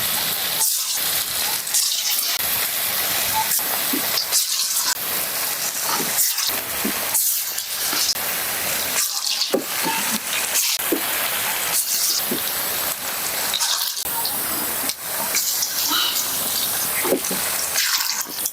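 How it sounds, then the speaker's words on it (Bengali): Potato and onion pakoras fry in hot oil in a kadai, giving a loud, continuous hissing sizzle with bubbling bursts that swell and ebb as more batter goes in. "তেল গরম হয়ে গেছে, এবার আমি পকোড়াগুলো ভেজে নেব।"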